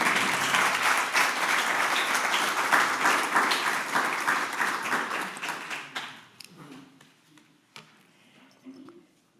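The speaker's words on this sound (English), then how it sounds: "That calls for a round of applause." Congregation at a church annual meeting breaks into a round of applause that holds strong for about six seconds, then thins to scattered, fading claps and a few quiet taps.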